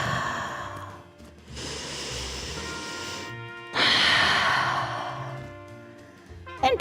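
Long, audible exhales during a power flow yoga class: two drawn-out breathy rushes of air, each lasting a couple of seconds, close to the microphone and separated by quieter breathing.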